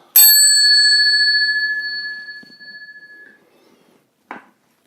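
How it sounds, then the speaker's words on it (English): A single bright meditation bell strike, marking the end of a meditation session, rings out and sustains with a long, slowly fading tone, followed by a brief soft knock near the end. "there is 1 strike of the bell to end it"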